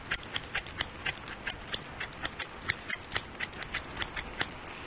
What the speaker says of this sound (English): I have some snippy snip scissors